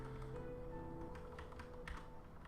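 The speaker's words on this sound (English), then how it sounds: "Keyboard clicks are satisfying." Computer keyboard keys clicking and tapping in a quick irregular run, close and fairly steady, over a constant background hum with no talking.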